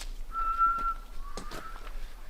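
A person whistles a thin, sustained tone that wavers slightly in pitch, heard fairly close against a quiet background.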